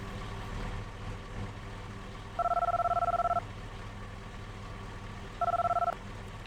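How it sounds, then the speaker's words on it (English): A phone rings in Farming Simulator with two bursts of electronic ringing, the second shorter, over a steady low engine hum from the game. "We'll call him up and say that we're interested in field 41."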